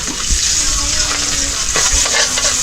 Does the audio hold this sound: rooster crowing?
no